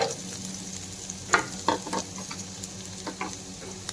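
Onions fry in oil in a pan while cooking street-style gobi manchurian. A gentle sizzle is broken by several clicking stirs and scrapes of a spoon.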